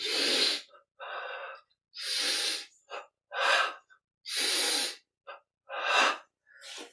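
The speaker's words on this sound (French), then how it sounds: "On inspire. Inspire devant." Deep, forceful breaths during a Kriya Yoga guided meditation exercise, about seven long inhales and exhales in a steady rhythm with short pauses between, close and clear with no talking.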